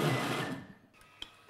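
A food processor whirs loudly through a mixture containing truffle oil, its steady motor drone winding down and stopping, followed by a faint click near the end.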